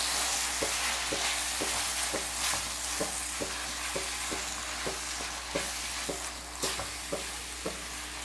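Ground green masala paste is stirred and fried in a pot for Bangalore-style donne chicken biryani, a steady sizzle broken by regular scraping strokes of the spoon, close and alone with no voices.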